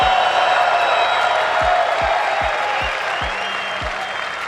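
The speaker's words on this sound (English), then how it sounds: "clap it the fuck up." A large audience at a motivational talk applauds, with loud, dense clapping that fades slightly toward the end. Several low thuds sound through it.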